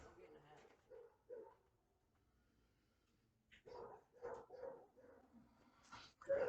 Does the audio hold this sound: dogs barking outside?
yes